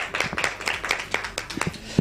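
An audience claps at a Christian door-to-door community program in Jalalpur Jattan, a quick run of brisk, fairly close hand claps repeating steadily for a couple of seconds.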